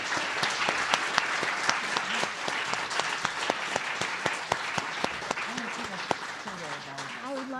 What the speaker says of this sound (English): I hope you all will give a round of applause to our panel